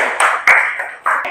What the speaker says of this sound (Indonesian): Tepuk tangan dong buat kelompok 1